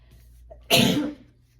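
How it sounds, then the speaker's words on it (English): A single loud, close sneeze bursts out after a quiet moment, a sharp explosive blast that trails off within half a second. "I feel like I gotta sneeze."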